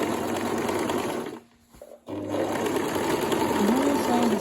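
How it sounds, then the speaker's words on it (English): A sewing machine stitches the side of a circle dress sleeve with a steady, close mechanical whir, pausing briefly midway before resuming at the same pace. "Now I want to sew the sleeve."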